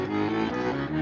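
Accordion playing stradella bass, a sustained reedy chord with a steady low bass note held for about a second, loud and close with no talk.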